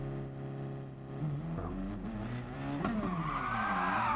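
A rally car in WRC 9 sliding under the handbrake, engine tone dipping and rising as the tires scrub and squeal into a drawn-out skid, close and steady.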